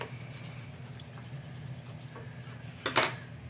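The edge of a paper slider card is rubbed down by hand, giving soft, close, continuous scuffing with a brief sharper scrape near the end.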